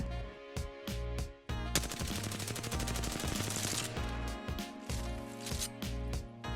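Assault rifle fire from an R-301 or Flatline in Apex Legends: short bursts of single shots, then a long sustained automatic burst and more clipped bursts, loud and close.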